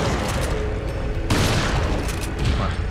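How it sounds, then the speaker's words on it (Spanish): Shotgun blasts from the Resident Evil 4 2022 replay on PS5, heard as loud booming shots with a sharp burst near the middle, over continuous game noise and no talk. "Tengo 6 tiros de escopeta"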